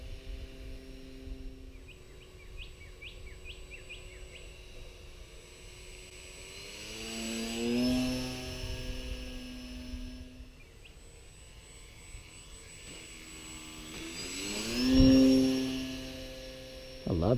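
An electric Fun Cub model airplane with a Storch-style setup buzzes along with a small motor that swells and fades as it passes at moderate distance, its pitch rising and falling through a slow stall takeoff and flypast.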